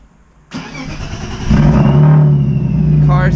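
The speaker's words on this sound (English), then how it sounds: "car starts right up" A BMW E36 M3 engine fires up from a push-button start: a brief crank, then the engine catches and settles into a loud, steady idle that continues to the end.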